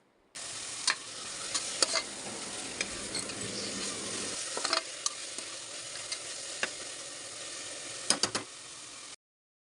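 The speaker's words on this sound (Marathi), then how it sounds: "आता याच्यामध्ये मी टोमॅटो टाकते जे टोमॅटो आपण घेतलेले दोन कापून बारीक चिरून घेतलेले ते टाकते आणि ते चांगले परतून घेते" Finely chopped tomatoes sauté in oil with ginger-garlic in a pan, making a steady sizzle broken by sharp clicks and scrapes of stirring that grow busier near the end.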